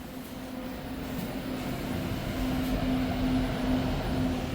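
Steady low rumble of a REM light rail train in motion near Pierrefonds-Roxboro Station, with a droning hum and a faint tonal whine rising slightly as it rolls along.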